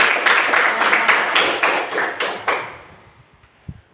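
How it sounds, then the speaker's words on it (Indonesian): A class claps for a student group: about eight sharp, evenly spaced claps ring out, then fade into quiet with one soft knock near the end. "beri tepuk tangan untuk kelompok"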